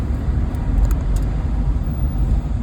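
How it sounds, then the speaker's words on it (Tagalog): Road traffic in San Jose, California: a loud, continuous roadway rumble of passing cars heard from close by inside the flow, with a few faint higher clicks on top. "But traffic in San Jose, California."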